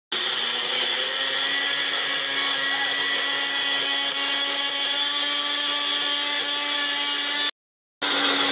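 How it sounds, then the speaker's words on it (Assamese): Mixer grinder grinding chutney from bottle gourd peel, a loud steady motor whine running for several seconds, then a brief stop and restart. "এয়া মিক্সাৰ গ্ৰাইণ্ডাৰত ভৰাই দিছোঁ"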